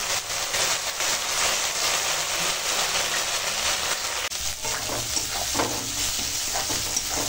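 Spice paste of turmeric, hot chili powder, Kashmiri chili powder and salt fries in a pan for a rohu fish curry, giving a loud, continuous close-up sizzle with occasional stirring scrapes and no talk.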